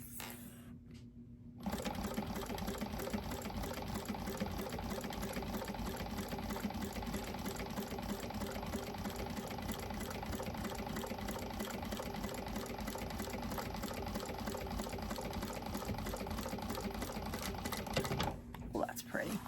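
A sewing machine runs steadily, stitching a seam on a bag, in a continuous rapid whir that starts after a brief pause and carries on almost unbroken to the end.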